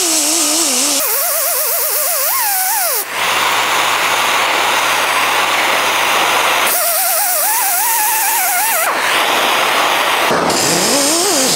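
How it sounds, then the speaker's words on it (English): A brass wire wheel scrubs against heated steel during brass plating, a loud, harsh, continuous whir with shifting pitch that drops out briefly in gaps as the wheel is lifted and pressed back to the metal. "start hitting it with that wire wheel"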